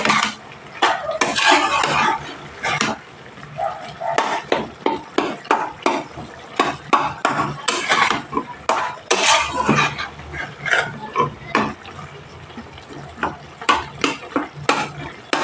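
A spatula scrapes and knocks repeatedly against a pan while potatoes and tomatoes fry, producing a rapid run of sharp metallic scrapes and taps up close over a faint sizzle.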